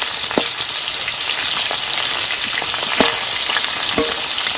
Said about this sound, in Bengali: আর এই আলুগুলো ভাজা হচ্ছে